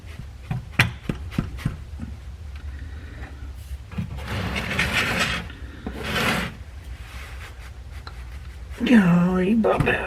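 Scraping, ratcheting and rubbing sounds come from under a Chevrolet Equinox as a tight 15 mm oil drain plug is worked loose, with a person talking over the close, uneven wrench clicks and a strained grunt near the end.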